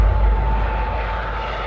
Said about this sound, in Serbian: Rolls-Royce Viper motor se pali.